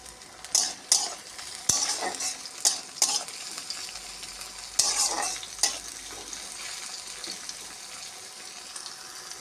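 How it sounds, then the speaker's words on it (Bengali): Onion and green chilli fry in a pan with a continuous hiss, broken by several sharp stirring scrapes and clinks in the first half before the sizzle settles into a softer steady bed. "ভাজা ভাজা হয়ে এসেছে পেঁয়াজ আর কাঁচা লঙ্কা"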